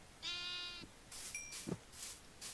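Minecraft sheep give a single clear, nasal bleat close up, followed by a few faint blocky game sounds and short clicks.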